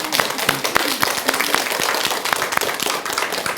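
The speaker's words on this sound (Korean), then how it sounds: "빈비사라 임금님 위해서 박수 한번 쳐드려요." Applause from a Buddhist lecture audience, honoring King Bimbisara: steady broadband clapping with sharp individual claps popping out, while faint speech murmurs underneath.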